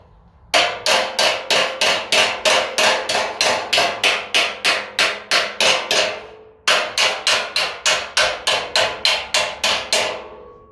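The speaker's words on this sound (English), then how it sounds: "put this big old club hammer underneath here and tap it till I tap it flat" A club hammer strikes metal on a Bedford CA pickup in a steady, rapid rhythm of sharp ringing blows, a long run, a brief pause, then another run.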